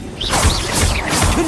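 A Confringo blasting spell is cast in Hogwarts Legacy, a loud, close burst of swooshing, crackling magic with sharp whooshes and heavy low impacts filling the whole moment, no voices.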